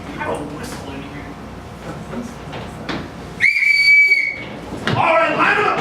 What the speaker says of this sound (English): I have a whistle in here.